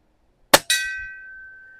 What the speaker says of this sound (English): let's hit the gong first